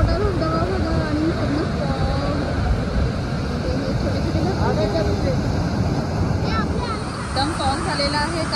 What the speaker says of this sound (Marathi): धबधबा केवढा मोठा धबधबा बघा